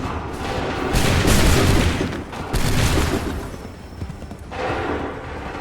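A volley of musket fire from soldiers in Assassin's Creed 3, loud rolling bursts of crackling shots in a few waves that swell and fade, without talk.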